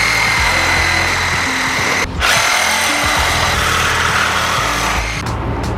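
A power tool cuts off metal under a Datsun 620 truck during a fuel cell install, running loud and steady at close range with one brief dip in the middle, no talking.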